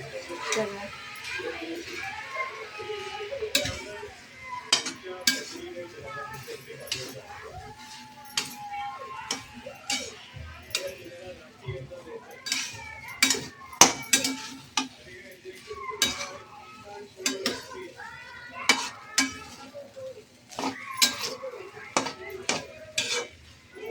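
Fried rice with cooked egg and masala is stirred in a pan: repeated scraping and clinking of a utensil against metal over a soft sizzle, with voices talking in the background.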